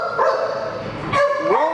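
A dog at an animal shelter barks in a couple of short bursts, close and fairly loud, with a yelping, whining quality and no talk over it.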